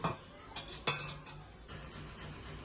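A metal lid clatters onto an AMC cookware pot of cooking prawn biryani, with a few quick clinks and a final settling clank, followed by a low background hiss.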